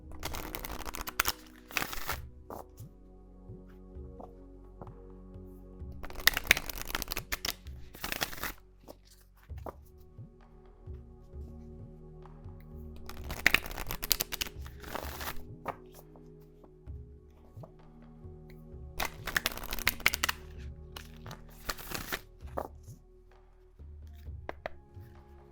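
Tarot cards shuffled by hand during a reading, arriving in four separate bursts of brisk riffling and flapping, each a couple of seconds long, with quieter taps and handling noises between them.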